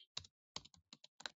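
Keys clack on a computer keyboard in short bursts, a few quick taps, a pause, then several more crisp presses, close and fairly quiet, with no talking.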